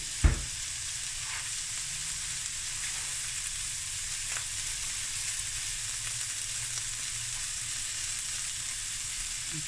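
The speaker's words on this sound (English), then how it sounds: "this is going to fry until golden" Ingredients fry in a pan for a crayfish and scallop curry, a continuous close sizzle with a sharp clatter at the start and occasional small pops and stirring knocks, no voices heard.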